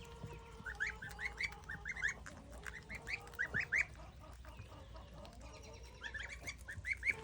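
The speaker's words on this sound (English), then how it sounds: "We'll check back with the goslings later and we'll see how quickly they eat that little handful of grass." Goslings on a farm peep and call in short repeated bursts while eating a handful of grass, the calls close but soft, over a quiet background.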